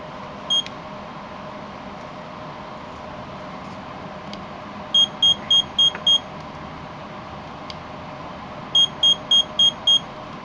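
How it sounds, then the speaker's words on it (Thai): Alert beeps from a CEM DT-806 infrared body thermometer: a single short beep, then two quick runs of five evenly spaced high beeps, clear and close over a quiet background hum. "F4 ก็เป็นการเปิดปิดเสียงแจ้งเตือนนะครับ ก็จะมีออน แล้วก็ออฟครับ"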